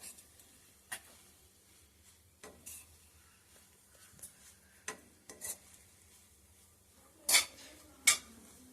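Cowpea leaf vegetable with coconut gets stirred in a pan, producing soft, scattered scrapes and clicks of a spoon against the pan over a quiet background, with two sharper clinks near the end.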